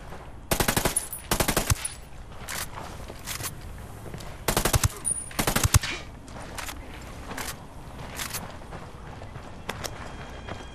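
Automatic gunfire from Ghost Recon: Wildlands: several loud, sharp bursts of rapid shots, with a cluster near the start, another pair mid-clip and scattered single cracks after that, over low ambient noise.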